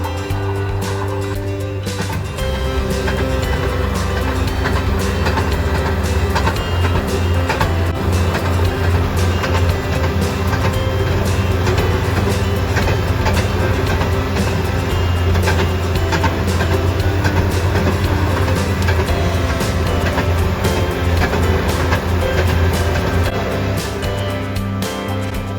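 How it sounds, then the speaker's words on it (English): Railroad motor cars, or speeders, run along the Columbia Terminal Railroad in Missouri with a continuous loud engine drone and rhythmic clicking of wheels over rail joints throughout. "members operate their motor cars, also known as speeders, on excursions"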